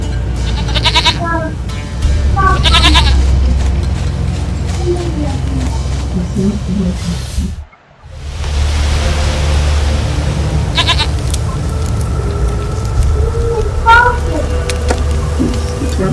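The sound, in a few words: goat bleating in the video game The Witcher 3: Wild Hunt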